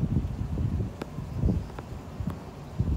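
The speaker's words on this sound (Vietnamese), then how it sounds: "gió thổi rất to và" Strong gusty wind before rain on a river buffets the microphone with a low, rumbling roar that swells and fades, with faint rustling and a few light knocks.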